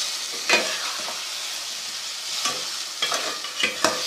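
Potatoes fry in a spiced masala pan with an aloo methi dish, giving a steady sizzle punctuated by a few scraping stirs of a spoon; no talking.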